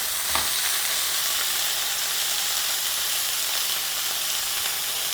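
Grated coconut heating in a pan for mint chutney, giving a steady, fairly loud sizzling hiss that holds evenly throughout with faint stirring scrapes underneath.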